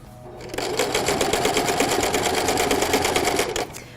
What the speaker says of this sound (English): you can always use the edge of the inside of the presser foot as your guide for an edge stitch.